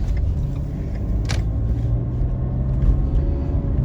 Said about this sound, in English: There's a vehicle pulling up next to me, not pulling up, but driving next to me